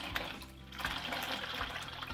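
Tap water runs steadily into a sink while a strainer used for acorn tannin dye is rinsed, a continuous close splashing hiss with no talk.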